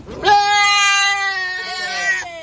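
A live goat gives a single loud, drawn-out bleat, close by and heard on its own with no talk over it.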